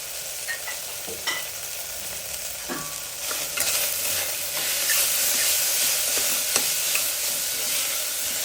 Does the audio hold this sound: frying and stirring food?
yes